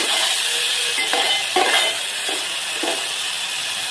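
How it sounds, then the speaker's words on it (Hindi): Tomatoes and green chillies frying with browned onions in a pan for matar pulao, a steady hiss of sizzling oil with a few soft scrapes and clinks of stirring. "टमाटर और हरी मिर्ची को ऐड कर लिए हम इसको भूनेंगे।"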